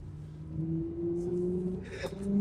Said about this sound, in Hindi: फेक आवाज है, ऐसे लगता है जैसे साइलेंसर रेस पकड़ रहा है एरोप्लेन वगैरह कुछ